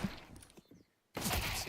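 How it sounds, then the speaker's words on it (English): Gunfire bursts from a professional Counter-Strike match at a B site, a broad, loud blast of shots erupting after a quieter stretch and continuing steadily to the end. "Some banging shots out of Jame and the boys into that B site."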